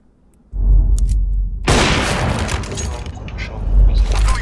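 A grenade explodes in a multiplayer shooter game, a sudden loud burst that follows a rumbling low background and decays into crackling debris while players chatter.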